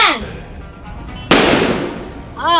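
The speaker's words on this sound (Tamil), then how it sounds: "ஆனா ஆப்பிள் ஜூஸ் மாதிரியே இருக்கிற வெடி இது" A Diwali firecracker goes off with a single sudden, loud bang that decays into a crackling hiss, close by, with a voice talking before and after the blast.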